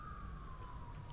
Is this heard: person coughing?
no